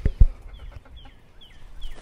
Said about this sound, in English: It's Beulah. She's a little undignified